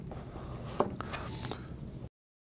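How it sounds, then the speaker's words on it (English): A knife slices potato into julienne strips on a cutting board, giving a few crisp, separate chops against a steady background hiss. "And now you're gonna use your knife, guiding hand in there, cut."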